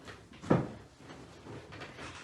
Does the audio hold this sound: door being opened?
yes